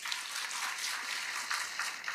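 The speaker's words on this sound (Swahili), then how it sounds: "Makofi tena." Renewed clapping from an audience at a public meeting in Siaya, Kenya, a sustained, even patter of many hands a little way off, somewhat softer, with a few sharper claps rising out of it.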